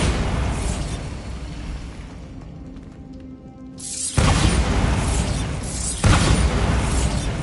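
In Hogwarts Legacy, a Bombarda spell explodes with a sudden heavy boom and a burst of debris noise, then a second blast hits shortly after. Both are loud and close, and a quieter mechanical hum fills the gap.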